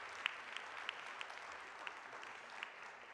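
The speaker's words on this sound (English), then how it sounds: "Could we please have a round of applause for our panel?" An audience at an evening college information night applauds a panel, a faint, steady wash of distant clapping with a few sharper individual claps standing out.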